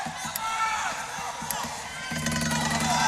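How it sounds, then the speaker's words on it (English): An ecstatic home crowd cheers in Penn State's Rec Hall on senior night at a college gymnastics meet against Nebraska, a loud sustained roar that swells further near the end, with a commentator talking over it. "now Kellen Ryan in Rec Hall for senior night gets to take his victory lap in front of an ecstatic Penn State home crowd."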